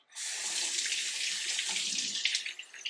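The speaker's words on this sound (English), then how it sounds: "So now what we do is just rinse it off." Warm tap water runs steadily over a motorcycle helmet visor as it is rinsed, a continuous close splashing stream lasting throughout with slight changes near the end.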